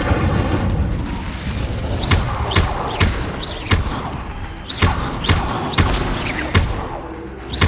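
The Incendio fire spell is cast repeatedly during combat in Hogwarts Legacy, producing a series of punchy whooshing bursts and thuds, roughly one every half second, over a dense game soundscape.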